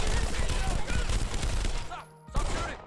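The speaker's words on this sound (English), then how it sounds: "Shots fired, shots fired" Gunshots ring out in a rapid, loud volley of cracks that runs for about two seconds, drops to near silence, then resumes briefly, with a voice talking over the firing.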